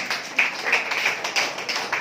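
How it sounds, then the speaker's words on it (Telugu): Scattered hands clap in a church service, a moderate run of uneven claps from a small congregation, fairly close, with a little voice underneath. "అర్థమైన వాళ్ళు చప్పట్లు కొట్టండి."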